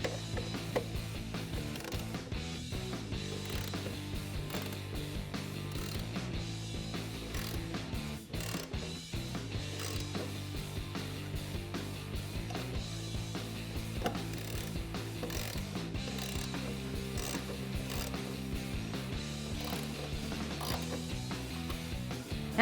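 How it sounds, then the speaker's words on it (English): Ratchet with a 14mm socket tightening a bolt while installing a cold air intake on a Jeep Gladiator JT 3.6L V6, steady quiet clicking mechanism running continuously and close, with no talk. "Now with a 14mm socket, tighten it down"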